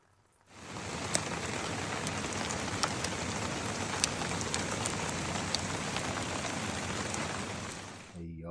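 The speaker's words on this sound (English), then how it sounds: "It is still raining outside." Steady, dense rain pours outside around a truck campsite in cold weather, a constant close hiss with scattered heavier drops that continues without a break.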